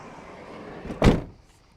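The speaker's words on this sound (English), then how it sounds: "Slide this door back into place." A Ford camper van's sliding door, on a 2024 WildAx Proteus motorhome, rolls along its track and shuts with a single solid thud, heard up close, followed by quiet.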